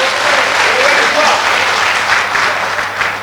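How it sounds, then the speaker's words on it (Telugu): Loud, dense applause from a crowd at a vegetarian rally in Srikakulam, clapping for a man named Shiva, a sustained roar of hands with crowd noise mixed in. "చప్పట్లు కొట్టాలి మహానుభావుడికి"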